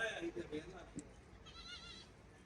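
A heavy male goat at a livestock market lets out a faint, wavering bleat near the end, following brief bits of nearby talk at the start.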